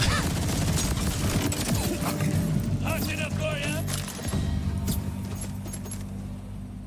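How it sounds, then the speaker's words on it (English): A self-replicating grenade in the video game Borderlands bouncing around and going off in a dense flurry of explosions and crackling gunfire, with someone talking over the chaos throughout. "that's that grenade I was just telling y'all about. You see how it like bounces around, that self-replicating?"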